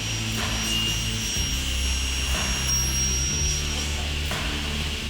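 A table saw blade set to 54 mm height makes a first cutting pass through wood for a canvas frame, a loud steady whine that holds throughout with brief dips as the cut proceeds.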